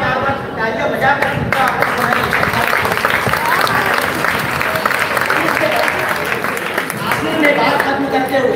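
A school audience at an annual prize distribution ceremony and cultural program claps continuously, a loud dense wash of applause running throughout, with some voices mixed in.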